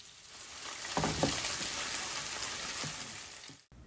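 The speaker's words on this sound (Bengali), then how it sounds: "ফ্রাইড রাইসটার জন্য আমি আবারও বাটার দিয়ে দিচ্ছি, তারপর হচ্ছে রসুন কুচি দিয়ে" Butter and chopped garlic fry in a pan for fried rice with a steady, close hiss of sizzling, broken by a few brief stirring scrapes.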